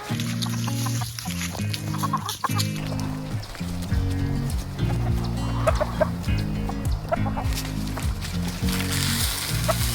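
Backyard chickens clucking and squawking at feeding time, a busy, close flock chatter with overlapping calls throughout.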